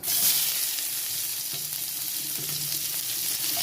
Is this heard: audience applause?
no